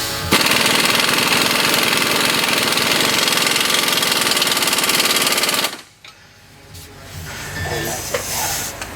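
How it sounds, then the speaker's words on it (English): A loud, rapid hammering rattle, like an impact tool, tightens a rear shock bolt with a 21mm socket on a 2007 GMC Acadia. It runs continuously for several seconds, then cuts off, leaving faint handling sounds. "You take your 21mm socket and wrench,"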